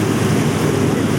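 A small cruise boat moves across calm water on Loch Lomond, giving a constant loud wash of wind and water rush with no clear talk.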